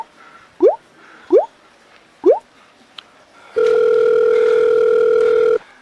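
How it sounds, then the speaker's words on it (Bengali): A telephone call tone plays as a steady, continuous electronic note for about two seconds, preceded by a few soft, separate plopping clicks. "পাঁচুকা ফোনটা করি।"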